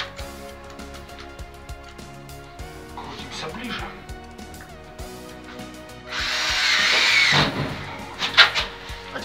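A screwdriver drives a self-tapping screw into a metal drywall guide profile, heard as a loud whirring burst after a spell of tool handling and clicks. Someone talks over it.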